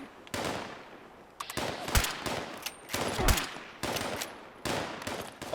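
Bursts of weapon gunfire in Fallout 76 come in about six loud, rapid volleys separated by short gaps, close and punchy, with no voices.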